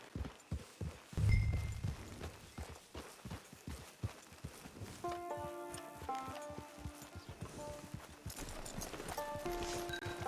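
Horse hooves clip-clop at a walking pace in Red Dead Redemption 2 Online, close and rhythmic, with faint musical game tones rising behind the steady footfalls.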